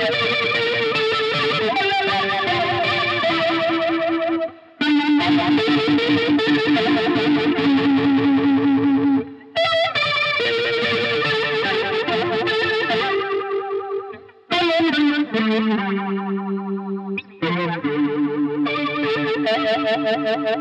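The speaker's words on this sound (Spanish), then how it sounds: "en esta ocasión he puesto el pedal antes de la distorsión" An electric guitar runs through a Walrus Polychrome flanger pedal placed before distortion, giving a thick, swirling, sweeping tone over sustained chords that stop and restart several times, loud and alone.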